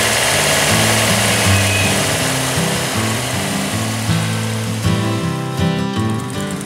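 A car engine running steadily near its open radiator while coolant is bled, with a loud continuous hum that lifts slightly in pitch as it is revved.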